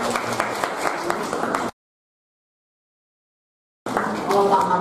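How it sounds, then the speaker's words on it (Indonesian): A seminar audience claps for a speaker in a steady burst of applause, mixed with voices. The sound cuts out completely for about two seconds, then the clapping and chatter return. "tepuk tangan untuk Pak"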